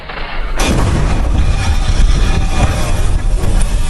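Deep explosion from a film scene at the surface above a buried wooden coffin, bursting in suddenly after a brief quieter moment, then a sustained loud, heavy rumble with debris-like crackle that continues to the end.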